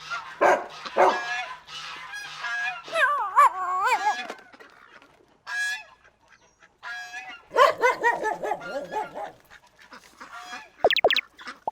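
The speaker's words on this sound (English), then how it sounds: "These geese are calling their baby." Geese honking as they call their gosling, irregular bursts of nasal honks near and clear, with some wavering calls and quiet gaps between groups.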